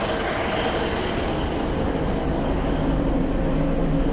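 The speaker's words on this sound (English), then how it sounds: "I've just realised it's an old train, not like the new ones" A steady, loud rumbling roar of an old train moving along the rails, heard from inside a carriage with a constant low hum throughout.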